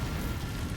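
A Confringo blasting curse goes off in Hogwarts Legacy as a single brief, dense roaring burst of explosive noise.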